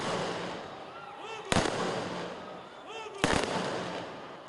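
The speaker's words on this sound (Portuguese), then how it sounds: "a salva de 21 tiros" A 21-gun salute fired by an honor guard at a ceremony honoring Tiradentes in Praça Tiradentes, Ouro Preto: two sharp, loud blasts about two seconds apart ring out over a murmuring crowd and voices.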